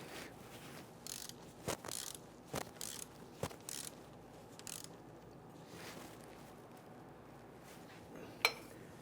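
A ratchet snugging down engine torque strut mount bolts on a 2011-2019 Ford Explorer, giving faint, scattered clicks and a few sharper metallic knocks over quiet background, with no speech.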